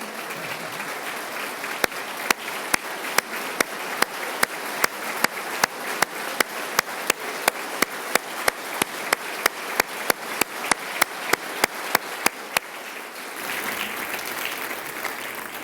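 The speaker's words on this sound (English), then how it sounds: "Jackson, please stand so we can give you a round of applause" Audience applause during a 2025 Ohio State of the State address, dense sustained clapping from a large crowd in a chamber, steady and loud, then cutting off abruptly near the end.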